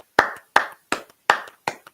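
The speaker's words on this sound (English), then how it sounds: "we'll give you a nice little applause" A single person claps five times at a steady, moderate pace, each clap sharp and close with a short ringing tail, no speech.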